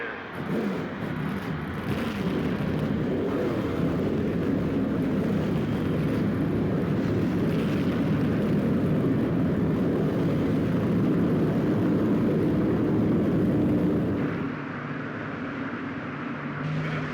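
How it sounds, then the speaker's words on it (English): Race car engines in NASCAR Thunder 04 at Bristol roar steadily as a loud, continuous drone for about fourteen seconds, then drop to a lower idling hum near the end, with no talking. "Gentlemen, start your engine."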